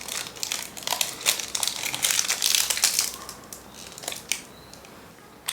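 Toffee chocolate wrapper packaging crinkles and crunches close up, a dense run of crackling rustles that eases toward the end.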